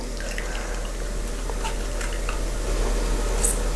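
Blended pandan leaves squeezed by hand to strain out the juice: soft wet squelching with trickling and dripping liquid, fairly close, over a low steady kitchen hum.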